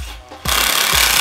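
A power drill drives a screw into wood while a child's coat rack is being built, a loud, steady, close whirring buzz that starts after a brief, quieter lead-in.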